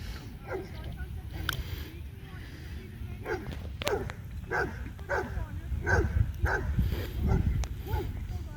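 An upset dog named Bobby gives a run of sharp, repeated barks and yips, close by, over a steady low rumble and some background noise.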